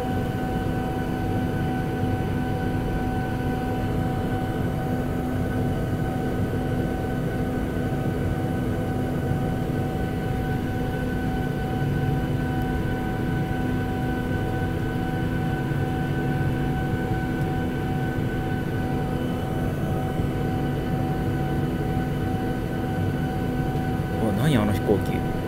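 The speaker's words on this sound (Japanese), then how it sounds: "滑走路の方に向かいます。" Steady engine drone and cabin rumble from a JAL airliner taxiing toward the runway at Tianjin airport, constant and even throughout, with a brief rattle near the end.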